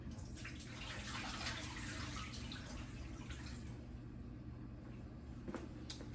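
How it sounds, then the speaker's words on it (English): Cold water pours and splashes as a pot of cut potatoes is drained, a steady rushing stream with a few brighter drips near the end, fairly quiet and with no one speaking. "Let's get our potatoes, drain them off."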